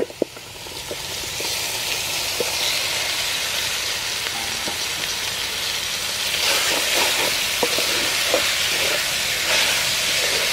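Beef sizzling and hissing in a hot pot for a beef stew, a steady loud frying roar with faint scattered clicks of stirring, growing slightly fuller toward the end.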